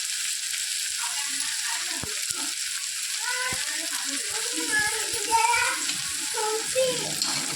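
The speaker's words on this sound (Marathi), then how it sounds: "इथे टोमॅटो झालाय सॉफ्ट मटर सुद्धा थोडेसे शिजलेले आहेत फ्रोझन मटर घेतले होते मी कांदा सॉफ्ट झालं आहे" Onion, tomato and frozen peas sizzle steadily in a pan for street-style masala Maggi, a close, continuous frying hiss with occasional stirring scrapes, while a person talks over it throughout.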